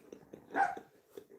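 A bully breed puppy gives a few small, soft yips and one slightly louder bark, close by, in short irregular bursts.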